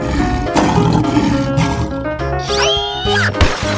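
A cartoon lion roars loudly over busy background music in a children's wild-animal cartoon, one rough, strained roar that swells and then breaks off.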